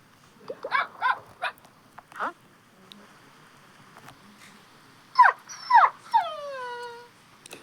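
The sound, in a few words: dog barking in a video game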